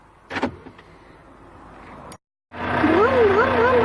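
A car door or power window closing by itself: a short motor whir and soft thump after a brief silence, then a voice sings over a steady hum. Speech can be heard earlier.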